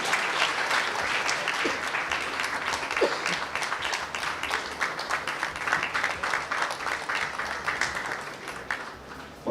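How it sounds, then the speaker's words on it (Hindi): Audience applause at a skills program MOU signing ceremony, a dense, steady clapping from a crowd that holds evenly throughout without talk. "जोरदार तालियां इस अवसर के लिए।"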